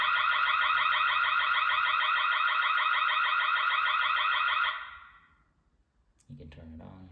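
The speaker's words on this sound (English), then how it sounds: "If you want to ring the alarm," A Dzees wireless outdoor security camera's alarm: a loud, rapidly warbling electronic tone rings steadily for several seconds, then cuts off and fades, followed by brief faint rustling.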